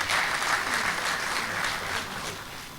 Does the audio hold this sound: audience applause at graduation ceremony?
yes